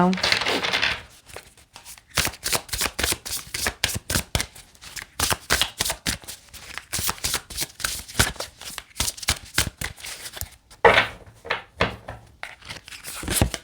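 Tarot cards shuffled for a love reading, a long run of dense, rapid riffling slaps and flicks close up, with brief pauses between bursts and some speech.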